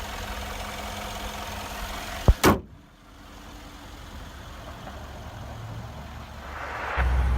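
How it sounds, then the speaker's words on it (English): A powerful Mercedes-AMG G63 SUV engine idles with a low hum, then a sharp click and short burst mark the shutdown, leaving a quiet background that slowly rises again. "Very powerful engine. Now let's shut it down"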